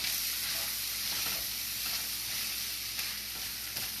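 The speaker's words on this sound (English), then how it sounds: "Stir this around." Chicken pasta sizzles and fries in a pan while being stirred, a continuous close crackle with occasional scraping knocks from the utensil.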